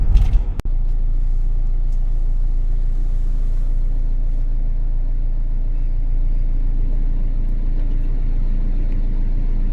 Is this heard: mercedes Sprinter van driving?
yes